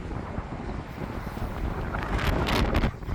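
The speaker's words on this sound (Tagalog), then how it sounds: "medyo malakas din yung hangin mga kapar, oh" Strong wind roaring across a microphone outdoors in Canada, a steady broadband rush that swells louder toward the end, with no voices.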